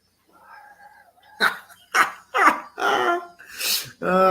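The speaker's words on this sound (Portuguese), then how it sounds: "Agora mais uma figurinha do Mário Jorge fazendo esse rosnadinho, por favor." A dog growling and then giving a run of short, loud barks and yelps, close and clear with no talk over it.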